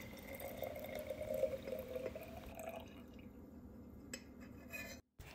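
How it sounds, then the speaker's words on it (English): Strawberry-syrup coffee mixture for a pink velvet macchiato pours into a glass with a soft liquid trickle and light glassware clinks, fading to near silence; no voices. "Now you pour in your coffee mixture."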